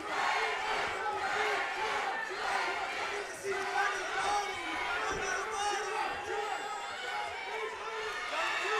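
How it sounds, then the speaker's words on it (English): An arena crowd roars at a women's MMA bout, a loud, sustained wall of cheering and shouting that holds steady throughout with little letup. "This crowd is going nuts."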